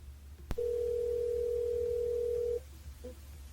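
On a radio show's phone line while calling a listener back, a single long steady dial tone sounds clearly for about two seconds after a sharp click, then a faint short beep follows.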